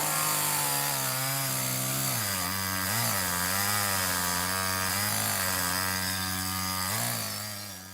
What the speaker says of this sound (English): The farmer used the big chainsaw to cut down as many trees as he could.